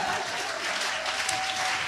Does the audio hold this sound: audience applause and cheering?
yes